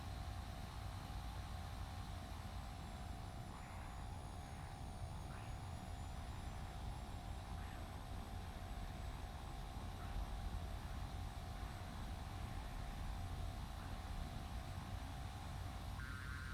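A jet aircraft engine roars in a flight simulator game, a steady broadband whine and rush holding at moderate level throughout, with no voices.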